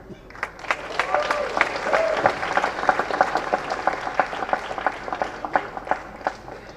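An audience breaks into sustained applause at a speech event, dense and steady clapping with sharp individual claps standing out, a voice faintly underneath.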